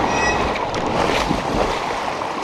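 A fast, powerful river current rushes loudly and steadily right at the listener, a dense churning wash of water with no voices.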